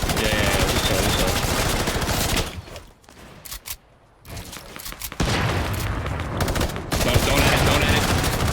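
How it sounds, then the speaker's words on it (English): Sustained rapid minigun fire in the video game Fortnite, loud and continuous with dense gunfire bursts, dropping out briefly in the middle before resuming at full intensity. "The guy minigunning us."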